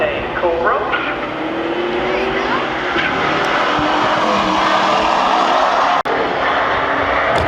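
A 1993 Mustang Cobra races at a drag strip, its engine roaring loud and steady throughout, with a race announcer talking over the dense engine noise.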